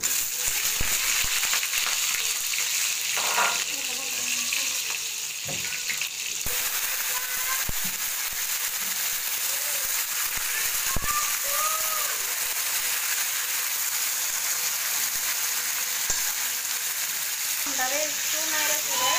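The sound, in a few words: mango pieces frying in a pan for pickle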